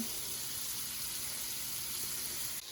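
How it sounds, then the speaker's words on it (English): Steak searing in a cast iron skillet gives a steady, close hiss and crackle that holds evenly throughout, with no talking over it. "we're gonna let each side sear for just a little bit"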